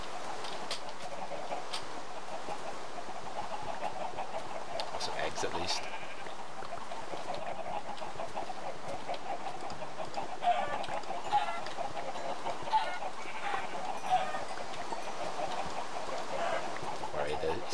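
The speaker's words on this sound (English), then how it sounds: "that's a lot of chickens" Minecraft chickens clucking in short, scattered calls over a steady game backdrop, with a voice talking across much of the stretch.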